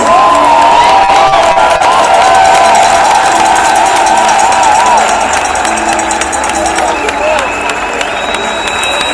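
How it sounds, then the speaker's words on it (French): A large crowd at a funeral gathering cheers and claps loudly in a sustained, dense roar, with shouts and whistles rising above the applause. "je voudrais demander à toute l'assistance de pouvoir s'élever et célébrer ce champion par des acclamations"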